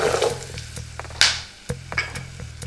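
Potato pieces sizzle in hot oil as a spatula clicks and scrapes against the pan a few times, the hiss fading between stirs.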